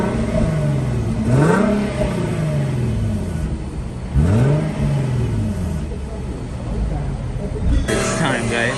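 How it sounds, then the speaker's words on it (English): A stock Infiniti Q50 VHR V6 engine revving up repeatedly, rising in pitch then settling back to a steady idle, close and loud, with a few blips at the end. "I'm gonna go ahead and give you guys some stock revs."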